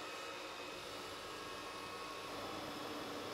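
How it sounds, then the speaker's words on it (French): A household vacuum cleaner that has switched itself on runs steadily, a continuous broadband whooshing roar with no pauses and no voices. "il y a mon aspirateur qui s'est mis en marche, je sais pas pourquoi"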